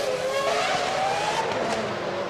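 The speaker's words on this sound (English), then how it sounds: "That's a slow McLaren there, Murray." A Formula One McLaren race car, driven slowly at Monaco during the 2000 Grand Prix, drones with a steady engine whine that slides gradually in pitch, loud and continuous throughout with no talk.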